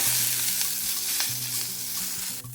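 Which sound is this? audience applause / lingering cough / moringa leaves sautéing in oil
moringa leaves sautéing in oil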